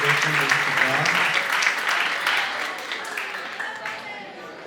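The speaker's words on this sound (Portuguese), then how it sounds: "professora Maria do Socorro Nogueira Girão, a quem acolhemos com a calorosa salva de palmas." A crowd at a cultural seminar during a cowboy festival in Brazil applauds warmly, steady clapping that gradually thins and fades over a few seconds.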